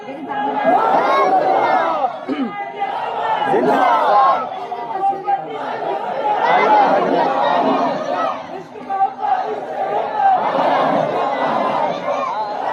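A large crowd at a religious sermon chants slogans in unison, many voices loud and close together, rising and falling in continuous waves with only brief dips.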